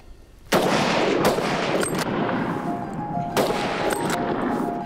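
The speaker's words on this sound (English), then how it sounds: "I counted to three, took off my safety, and I took the shot." A hunting rifle fired at a bear: a sharp, loud close shot followed by echoing rumble, then a second report and a third cracking shot with reverberating tails, outdoors with no talk.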